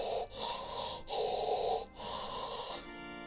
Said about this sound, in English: Does it sound like Darth Vader breathing on the game over screen?